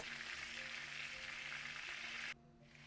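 Chicken legs and onion fry in a covered skillet with a steady, soft, even sizzle that drops away suddenly near the end.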